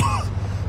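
A Mafia II character with injured ribs gives a single short, rough cough or throat-clear, close up, followed by a low engine hum in the background.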